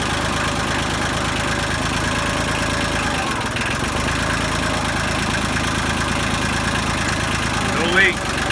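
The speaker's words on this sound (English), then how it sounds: "we're gonna try and cycle the motor and see what happens" A tractor engine runs steadily at a constant idle-like drone after its hydraulic lines were brazed, a continuous mid-pitched rumble close by with a faint voice briefly in the background.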